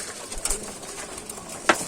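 Racing pigeons coo and flutter softly while feeding, close by, with scattered pecking clicks and a sharp tap near the end.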